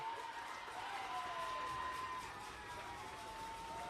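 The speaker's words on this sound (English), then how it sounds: "And the Nixon crowd is hyped up." Faint, distant crowd cheering and shouting at a Texas high school softball playoff game between Nixon and Carroll after a run scores, a sustained excited roar with whoops, heard from afar.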